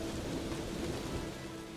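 A thunderstorm with hail pounds down in a dense, steady roar of rain and rumbling thunder, loud and continuous with no voices.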